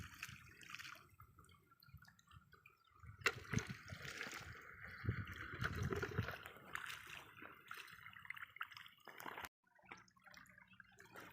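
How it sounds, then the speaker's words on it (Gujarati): Water splashes and pours as a small boy waters bottle gourd plants with a bucket filled from an irrigation channel, uneven sloshing and gushing bursts close by, ending in a short pause. "એ દૂધીને ડોલ ભરીને પાણી પાય છે।"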